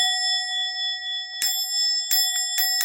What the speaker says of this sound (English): I'm ringing a bell right now